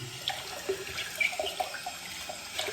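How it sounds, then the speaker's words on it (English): Running hot tap water splashes steadily over a J.A. Henckels carbon steel straight razor, rinsing off soap, with small clinks and rinsing splatters close by. "Make sure I get all the soap with hot water"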